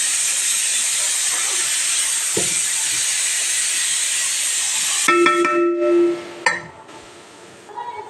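Cooked mutton kasha tipped into a biryani pot with ghee and biryani masala, a loud steady sizzling hiss that cuts off abruptly, followed by faint clinks and quieter frying.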